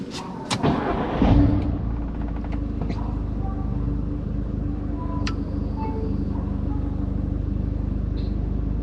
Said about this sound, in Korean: 이제 시동 킬까?